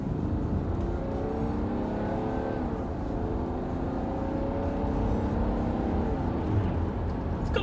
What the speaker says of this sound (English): It's got a good noise for a diesel engine. I mean, it's no petrol V8, is it? But it's not a bad noise for a diesel.